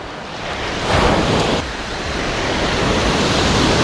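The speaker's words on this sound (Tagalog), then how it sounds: "Ang laki ng alon." Big ocean waves crash on a beach at a raw camping spot, a loud, continuous roaring wash with a surge near the second mark, mixed with wind buffeting the microphone.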